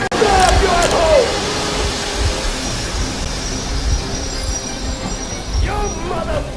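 A train brakes in the video game Metro Exodus, with high metallic squeals at the start and again near the end over a loud, continuous rumbling roar, while voices shout over the noise.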